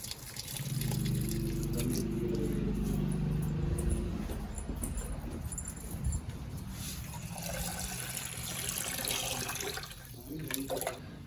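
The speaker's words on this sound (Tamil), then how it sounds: "சரி பரவாயில்ல, அரிசி கழுவி பிடிச்சிட்டு வந்துடுறேன்." Rice being washed under running tap water, a close, steady stream splashing into a vessel, with sloshing and clinks from stirring the grains before the flow turns lighter and more broken.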